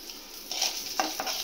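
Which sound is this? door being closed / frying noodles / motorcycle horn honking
frying noodles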